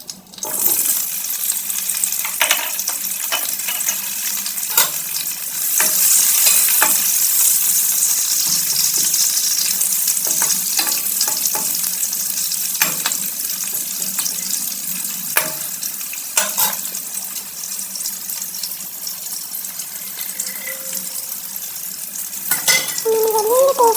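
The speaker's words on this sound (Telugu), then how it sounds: "ఆయిల్లో బాగా సిమ్లో పెట్టి బాగా డీప్ ఫ్రై చేసుకోవాలి" Stuffed eggplants, gutti vankaya filled with spices and garlic, deep frying in hot oil in a home kitchen, with loud steady sizzling throughout and occasional stirring clinks and scrapes.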